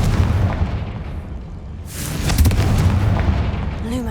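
Confringo blasting spell detonating in the Hogwarts Legacy video game, a loud rumbling explosion with a dense low boom, a fresh crackling burst midway, and sharp magical bursts crackling over continuous game noise.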